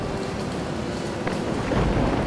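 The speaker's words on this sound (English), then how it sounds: "wait for the rain to go away, because the rain is really annoying to work with" Steady rain with a low thunder rumble in the video game Planet Explorers, a continuous broadband wash of fairly loud rainfall with no voices.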